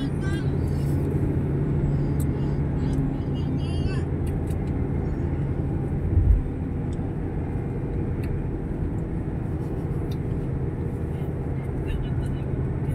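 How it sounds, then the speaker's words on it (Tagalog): Road traffic on the SLEX expressway heading onto the Skyway: a steady, dense roar of passing vehicles heard from inside a car, continuous and even, with one brief thump partway through. "Traffic."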